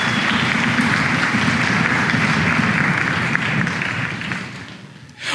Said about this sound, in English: So an applause to you.